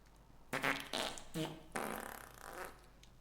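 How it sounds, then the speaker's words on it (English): Streamers test a fart sound effect, a few loud spluttering blasts in quick succession followed by a longer drawn-out rumble. "Let me test the fart."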